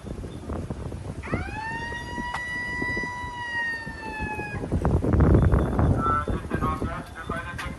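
A siren wails in a rising, sustained tone for several seconds amid busy street noise on Sentosa Island, Singapore, then fades as traffic rumbles on.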